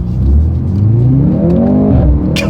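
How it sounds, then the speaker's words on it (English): A 2024 Mercedes-AMG C 43 in Sport Plus mode accelerates hard with manual shifting, its engine and exhaust roaring loudly and rising in pitch through the gears, heard close from inside the cabin without talk. "The exhaust is ridiculous."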